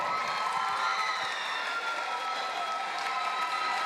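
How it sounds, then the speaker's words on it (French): An audience at a school quiz competition applauds steadily in a hall as a team takes the stage. The dense clapping is mixed with some cheering and shouts and holds at an even level throughout. "Sous vos applaudissements, s'il vous plaît."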